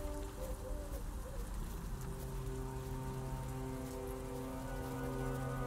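Steady rain pouring at night in the horror video game Vlad Circus: Descend Into Madness, a dense, even hiss of drops on surfaces that stays constant throughout with no other sounds.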